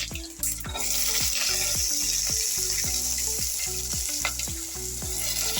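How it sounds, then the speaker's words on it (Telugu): Onion and green chillies sizzling in hot oil with curry leaves and dried red chillies, a loud continuous crackle broken by a regular series of spoon or spatula knocks against the pan. "ఆనియన్, ఒక 2 పచ్చిమిర్చి, ఇది కొంచెం ఫ్రై చేస్తుంది"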